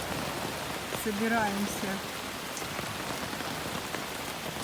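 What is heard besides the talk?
rain falling in the Maldives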